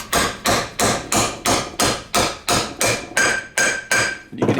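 A small wheel bearing race is hammered into a trailer hub with a dozen evenly spaced metallic blows, loud and close, the ringing tone shifting higher toward the end as the race seats.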